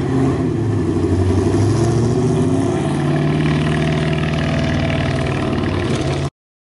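An Audi's engine growls loudly and close, rising from idle into a revving takeoff and then holding a strong, steady drone until it cuts off abruptly.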